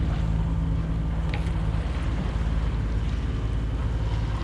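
A sailing yacht motoring under engine along the south coast, a steady low drone blended with wind buffeting and water rush, loud and continuous throughout.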